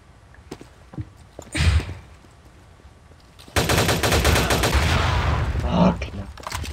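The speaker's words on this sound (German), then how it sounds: "ich schieße schon wieder von alleine" In the video game Rush Team, rapid automatic gunfire is heard: a short burst early on, then a long, loud, sustained volley of shots near the end.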